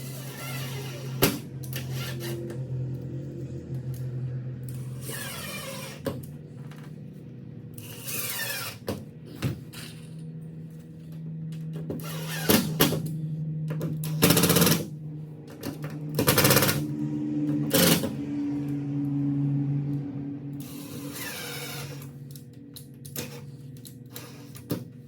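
Screws are driven down into wood with a power driver, giving bursts of buzzing whir and ratcheting clicks separated by short pauses, close and fairly loud.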